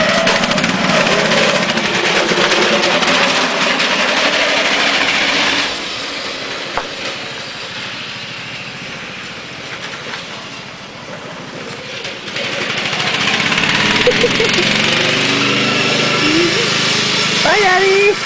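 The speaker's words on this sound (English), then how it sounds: "He hot rodded his lawnmower, so it goes about 25 miles an hour in 5th gear." A hot-rodded riding lawn mower that reaches about 25 miles an hour in fifth gear drones steadily, fading as it moves off and then growing loud again, with voices now and then.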